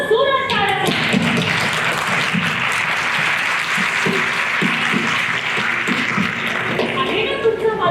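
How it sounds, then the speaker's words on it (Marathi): Children clap loudly together in a steady burst of applause filling the whole stretch, with scattered taps and thuds and some voices mixed in underneath. "मग जोरात टाळ्या वाजवा."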